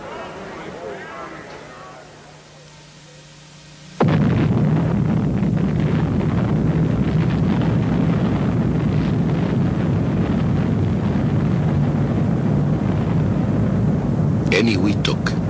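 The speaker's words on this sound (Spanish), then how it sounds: "La prueba de la primera bomba de hidrógeno." First hydrogen bomb test at Eniwetok in 1952, a sudden loud blast that turns into a sustained deep roar and rumble lasting many seconds, after a quiet rushing lead-in.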